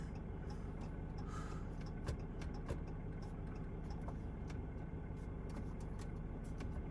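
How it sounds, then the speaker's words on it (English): A semi truck comes down the road, giving a continuous engine rumble and road noise at moderate distance, with faint ticking and no talk. "there's a semi truck coming down the road"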